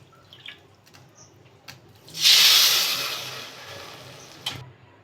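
Water poured into a hot pan holding flour, sugar and cracked cardamom pods, bursting into a loud sizzling hiss that swells, then slowly fades, with a few soft clicks before it.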